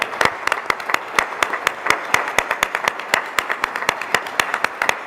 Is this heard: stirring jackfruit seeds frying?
no